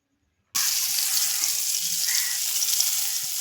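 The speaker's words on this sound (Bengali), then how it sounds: "আমি উচ্ছেগুলো আলাদা করে ভেজে নিচ্ছি।" A loud, steady sizzle of bitter gourd frying in hot oil starts abruptly and continues evenly, close up, with no talking.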